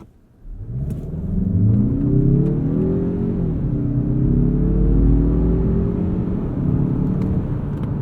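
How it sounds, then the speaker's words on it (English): A turbocharged 2021 Mazda CX-30 Turbo revs up hard from a brake-torqued stop, pitch climbing through gear changes in a loud, continuous roar heard from inside the cabin. "Let's go into a quick 0 to 60 here. We'll even brake torque this."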